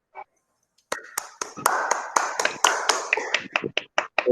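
A small group applauds on a evening talk show, a short round of sharp, close hand claps that thins out into scattered separate claps toward the end, following a brief faint sound and a moment of silence.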